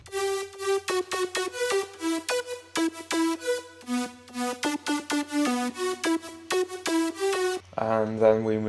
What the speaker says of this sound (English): So the drop melody sounds like this.